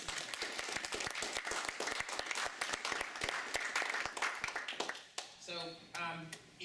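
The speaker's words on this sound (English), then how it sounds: "let's give Laura a round of applause" Audience applause after a presentation at an incident-response chat event: dense, steady clapping for about five seconds, then fading out as a voice begins speaking.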